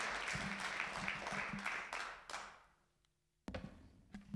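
A church congregation claps for the children at a snowy Christmas Eve service, a fairly loud spread of applause that thins and fades out, then a few sharp taps and thumps near the end.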